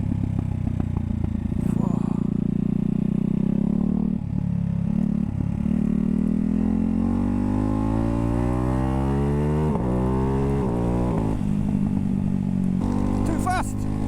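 Ducati Hypermotard 698 Mono single-cylinder motorcycle ridden on the road, its engine note climbing steadily through the gears with rising and falling pitch sweeps and brief gaps at shifts, loud and close, while a rider talks over it.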